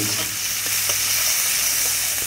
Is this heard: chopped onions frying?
yes